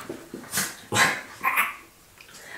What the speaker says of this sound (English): Don't bark at me then and you won't choke.